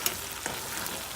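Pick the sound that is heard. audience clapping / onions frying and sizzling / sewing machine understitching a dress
onions frying and sizzling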